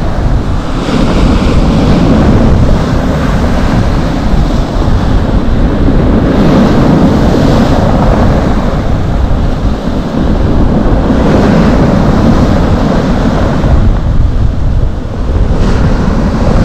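Sea waves roll onto a fishing pier shore at Lazarevskoye on a warm, very windy January day. The surf roars loud and close, with slow surges under constant heavy wind buffeting the microphone.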